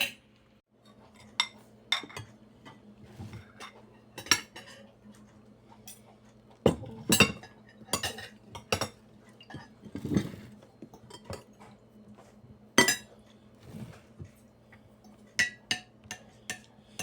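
Cutlery scraping and clinking against dishes and bowls during a home meal, with scattered sharp taps and clinks at irregular intervals over a low steady hum, fairly close.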